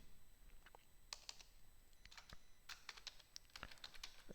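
Typing on a computer keyboard, rapid irregular key clicks in short bursts with brief pauses, close and moderately quiet, no voices.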